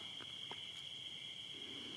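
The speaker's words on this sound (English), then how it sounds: "you can't take the sound of the crickets" Crickets chirp at a monastery as a steady, high continuous trill, with a few faint brief sounds in the background and no talking.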